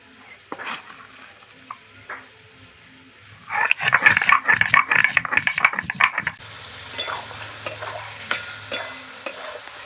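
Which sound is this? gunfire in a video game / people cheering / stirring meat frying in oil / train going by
stirring meat frying in oil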